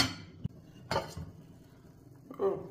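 A lid goes onto a pot of simmering milk and ras malai, making a few short, sharp metallic clinks spaced apart against a quiet kitchen background.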